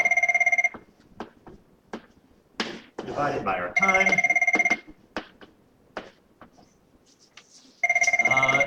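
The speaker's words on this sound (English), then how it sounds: "My phone is ringing." Telephone ringing in bursts of loud electronic trills that start, pause and return, with someone speaking between the rings.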